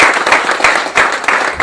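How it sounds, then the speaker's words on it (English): A studio audience on a talk show claps for young people in the crowd, a broad wash of hand claps surging in several waves, fairly loud and close, with no talk over it. "y'all clap for the young people"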